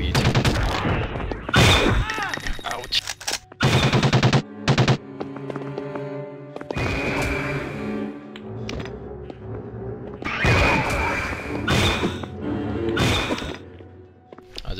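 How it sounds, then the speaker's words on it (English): Machine gun fire in the video game Nosferatu: Wrath of the Malachi comes in several loud bursts of rapid shots over game music and effects, with short gaps between volleys. "I'll try with the machine gun."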